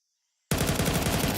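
Rapid automatic gunfire in Counter-Strike 2 during a professional esports playoff match, bursting in suddenly after half a second of silence and continuing as a loud, dense, steady stream of shots with no voices over it.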